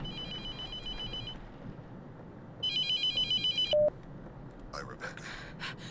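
Repeated electronic phone ringtone in the horror game The Mortuary Assistant, set in a mortuary: a steady tone over a low background hum, then a second louder pulsing burst of rings, followed by short beeps and clatter.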